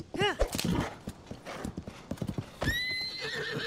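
A horse in the video game The Legend of Zelda: Tears of the Kingdom gives a loud whinny, followed by rhythmic clip-clop hoofbeats and a second drawn-out neigh, all close and clear.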